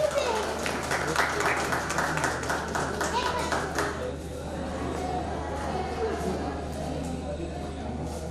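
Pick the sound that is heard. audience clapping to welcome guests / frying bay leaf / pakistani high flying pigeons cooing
audience clapping to welcome guests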